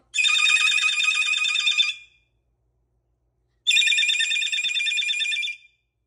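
A telephone ringtone sounds indoors in two loud, even bursts of about two seconds each, separated by a pause of silence, with no talking.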